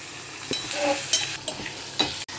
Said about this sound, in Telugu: ఈలోపు నేను తాలింపు పెడుతున్నా